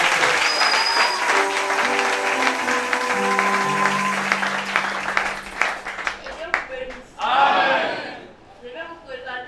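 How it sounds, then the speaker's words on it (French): Applause and crowd noise at a church Sunday school Christmas gathering, mixed with a sustained musical tone and voices. The clapping thins out, then a louder burst of cheering rises near the end before fading. "Applaudissez alors qu'il est en train d'avancer"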